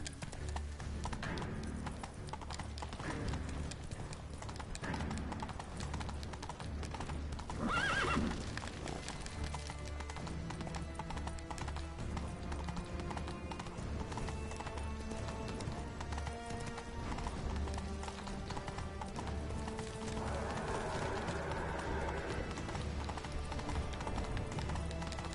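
Roach the horse galloping in The Witcher 3: Blood and Wine, a continuous drumming of hooves under dense game sound and music, with a whinny partway through.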